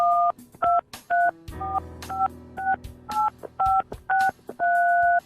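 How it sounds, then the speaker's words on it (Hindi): A mobile phone keypad beeps out dialing tones, a quick run of about a dozen crisp, loud dual-pitched beeps of uneven length with short gaps, a low hum under the middle of the sequence. "अपने मोबाइल से अपने क्रेडिट कार्ड के 16 अंक डायल करिए"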